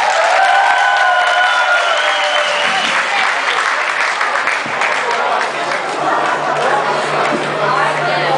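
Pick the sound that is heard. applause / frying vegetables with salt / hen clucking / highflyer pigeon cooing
applause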